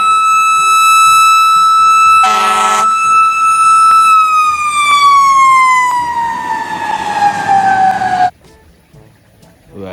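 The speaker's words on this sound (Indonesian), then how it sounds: "ternyata dapat mobil pemadam kebakaran" A toy fire engine sounds a loud electronic siren at close range. It holds one steady tone, briefly breaks into a rapid warble, then holds the tone again while the pitch gradually slides down, before cutting off abruptly near the end.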